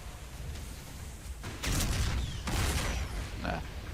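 Heavy artillery booms from a siege cannon in the real-time strategy game StarCraft 2, two broadband blasts rolling out over a continuous low rumble of game audio, loud and close.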